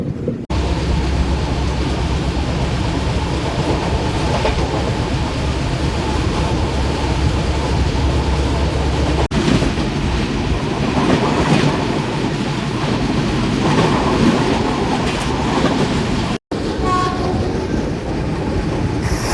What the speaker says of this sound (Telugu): తాడేపల్లిగూడెం వరకు నేనైతే జర్నీ చేస్తాను ఈ ట్రైన్లో